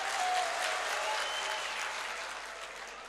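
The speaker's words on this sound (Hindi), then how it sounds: "उनके लिए मेरी जानिब से आप एक मरतबा ताली बजा दीजिए।" Audience applause at a mushaira poetry gathering, a steady wash of clapping from a seated crowd that slowly fades.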